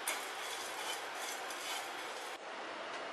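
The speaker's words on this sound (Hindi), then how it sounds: "धीमी आंच पे इसे भुनेंगे लगातार चला के।" Constant stirring and sizzling of dried red chillies, curry leaves, garlic cloves and ginger pieces roasting in a pan over low heat, a dense, even crackle with no talking.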